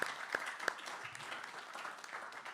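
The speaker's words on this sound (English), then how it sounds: "if you all could join me in giving one more round of applause for Dr. Larson" Audience applause at a Mencken Day 2025 event, fairly faint and distant, with a few sharper claps standing out near the start over a soft continuous patter.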